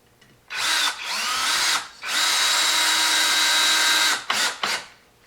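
A power drill drives standard deck screws into a block of white cedar in two long loud whirring bursts with a brief pause between, then two short quick pulses at the end, with no talking.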